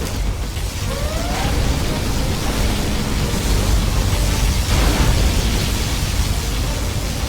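In the game Command & Conquer Generals Zero Hour, a particle cannon fires a sustained, loud, roaring blast of dense noise that holds steady throughout.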